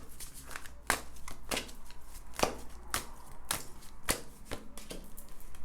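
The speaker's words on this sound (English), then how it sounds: "now I'm going to shuffle these cards" Tarot cards shuffled by hand in a quiet room: a series of sharp, crisp riffling snaps at irregular intervals, each a brief bright burst standing out close over a low steady background.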